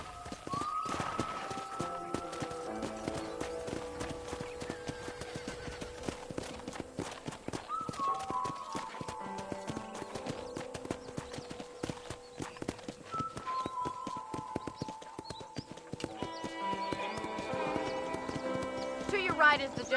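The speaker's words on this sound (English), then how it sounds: "I picked out a fine horse for you." Horse hooves clip-clop steadily on a ranch in Red Dead Redemption, a continuous rhythmic walking gait under background music, with occasional snorts.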